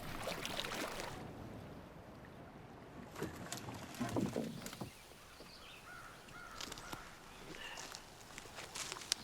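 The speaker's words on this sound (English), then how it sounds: "Battling this wind with a single blade and a fully loaded canoe is not something I'm very used to." A fully loaded canoe is paddled with a single-blade paddle in wind, giving soft splashing strokes and water swishes over a windy, open-air background, fairly faint, with occasional knocks.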